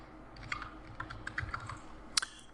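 A one-time password being typed on a computer keyboard, a short burst of quick, close key clicks in an uneven rhythm, fairly quiet, with no voice over it.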